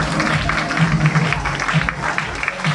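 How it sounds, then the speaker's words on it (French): Concert audience applauding the sound engineer, steady full clapping from a crowd throughout, with a few voices mixed in. "J'aimerais vous inviter à applaudir de tout votre cœur notre super sonoriste Jonathan."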